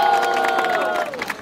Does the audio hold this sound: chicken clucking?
no